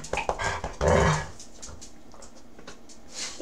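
A dog growls and whimpers close by in a few short grumbling bursts, the loudest near the start, then trails off into softer whines.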